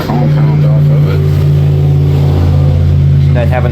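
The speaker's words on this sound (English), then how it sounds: "Then have a noisy truck go by." A noisy truck drives by nearby, its loud, steady engine rumble and drone filling the whole stretch, with a voice faintly audible underneath.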